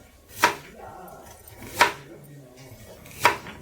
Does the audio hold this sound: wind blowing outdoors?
no